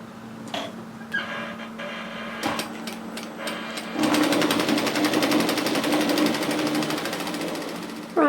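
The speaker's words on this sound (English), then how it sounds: "So extend your stitch length and stitch that at 1 centimetre." A sewing machine runs a long basting stitch to gather fabric for a dress, starting with a few short bursts and then settling into a steady, close, rapid whirring run.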